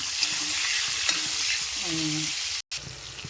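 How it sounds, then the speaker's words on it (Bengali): Tomatoes fry in hot oil with a continuous close sizzle and scraping stirring strokes, broken briefly by a short silent gap before the sizzle resumes. "গরম তেলে একটু ভেজে নেবো, হালকা হালকা করে ভেজে নেবো"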